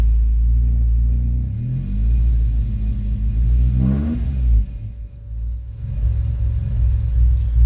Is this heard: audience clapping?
no